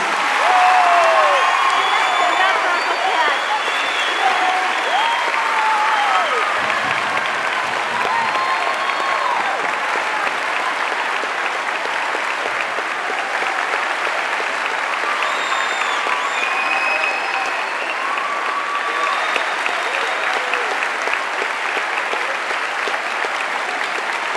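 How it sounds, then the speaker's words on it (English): A school assembly crowd gives brother Chad a round of applause, loud, sustained clapping from many hands that fills the room for over twenty seconds, with some cheering and whoops rising above the clatter. "Give him a round of applause."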